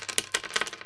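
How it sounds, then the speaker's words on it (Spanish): A few coins drop and clatter in quick succession, each a short, dry metallic clink close by and fairly quiet, with no voices. "Sacó unas monedas de su traje y las dejó caer con un sonido seco y metálico."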